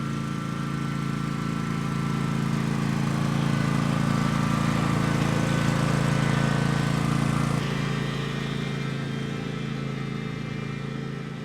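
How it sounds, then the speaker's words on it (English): A riding lawn mower's engine drones steadily at close range while driving over a deep graded ditch, a constant low rumble that eases slightly toward the end. "The lawnmower goes over it."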